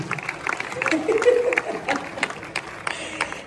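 Audience applause at an event in Kigali, Rwanda: scattered clapping and crowd noise rising and falling, heard under a voice speaking.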